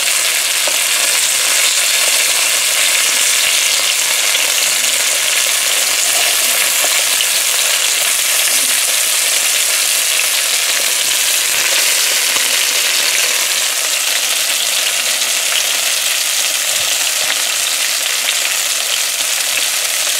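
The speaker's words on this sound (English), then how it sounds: "the fish is almost finished frying here" Snapper fish fries in a pan with a dense, steady sizzle and crackle, loud and close, running without pause and without talk.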